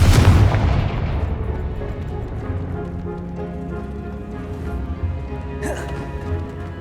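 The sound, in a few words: Confringo blast spell explosion in video game Hogwarts Legacy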